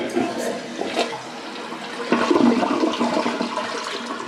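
A Glacier Bay 635675 toilet flushes nearby, a gurgling rush of water that swells halfway through and keeps draining steadily, with brief talk at the start.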